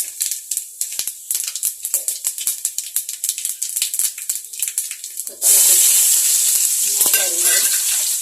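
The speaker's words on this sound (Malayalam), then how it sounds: "വെളിച്ചെണ്ണ ഒന്ന് ചൂടാകുമ്പോഴത്തേന് അതിനകത്ത് കടുകിട്ട് പൊട്ടിക്കുക" Spices dropped into hot coconut oil at about five seconds burst into a loud, steady sizzle and crackle after a stretch of quieter stirring and clinking in the pan.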